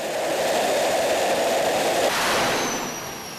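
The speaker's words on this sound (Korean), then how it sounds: "불꽃과 함께 엄청난 세기의 바람과 소음이 뿜어져 나온다" A dense, steady roar of rushing exhaust blasts continuously, loud and broadband, from a fighter jet engine running at high power during a ground test.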